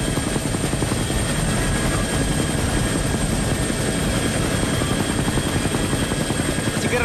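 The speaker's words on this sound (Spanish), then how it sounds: "un espectáculo que por primera vez realiza helicópteros, aeronaves y aviones de combate en la ciudad de Lima" A loud, steady helicopter rotor thump and engine drone at an air parade in Lima continues throughout, close and overhead, with no break.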